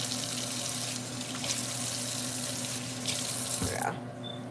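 Grits rinsed under running tap water in a bowl: a steady, close, loud splashing gush that continues evenly, shifting slightly near the end as the flow tapers off.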